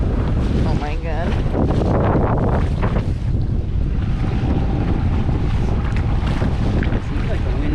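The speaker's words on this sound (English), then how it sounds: "It seems like the wind is even picked up." Strong wind at sea on a sailboat, a loud, steady roar of gusts buffeting the microphone with water noise beneath, brief voices near the start.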